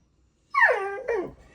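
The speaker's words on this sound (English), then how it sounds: "That's my dog." A dog whimpers close by in one drawn-out falling whine, quickly followed by a second, shorter whimper. Everything else is near silence.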